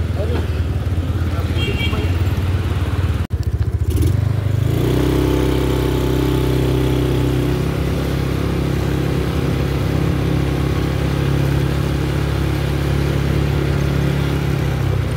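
A Yamaha Mio Sporty scooter engine idles and is revved during a test drive, giving a loud, close, steady motor drone through the whole stretch, with a brief clunk partway in and voices nearby.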